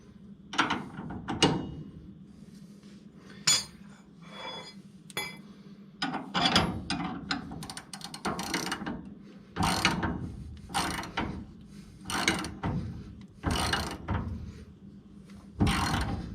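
A hand ratchet with a 15/16 socket tightens nylock nuts on the bolts of a Ford 9 inch rear end under a 1969 Firebird. Bursts of sharp clicking repeat at irregular intervals, with pauses between strokes, close and clear, and no talking.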